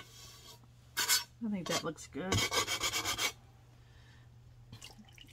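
A wet sanding pad rubs across a bisqued stoneware platter in several short, close, scratchy strokes, with a brief voice speaking nearby.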